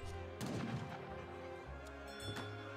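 Rapid gunfire and cannon blasts from an Age of Empires III 1v1 match, a dense cluster of distant shots and booms rolling over a steady game soundscape with a second burst near the end.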